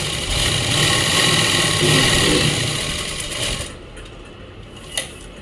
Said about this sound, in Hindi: यहाँ तक 1/2 इंच ऐसे सिलते हुए ले आएंगे।